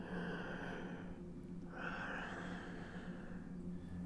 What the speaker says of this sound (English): You can just hear kind of laboured breathing.